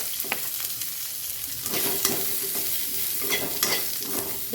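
Garlic and onion sizzle and fry in a pan just used for paneer, with a steady crackle and occasional stirring scrapes close by, no voices.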